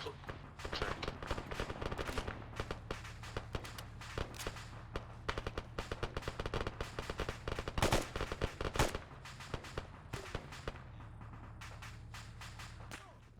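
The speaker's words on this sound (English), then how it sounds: "That's some nice shooting." Rapid gunfire in the FPARMA video game, dense crackling bursts of automatic fire and single shots going almost nonstop, with a heavier volley near the middle, over a low steady hum and faint voices.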